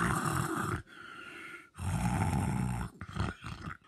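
Loud, close snoring in long rasping bursts separated by short gaps, growly and throaty, likely a voice imitating the sound, with no talk.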